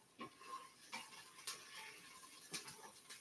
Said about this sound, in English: So I'm gonna stir this up.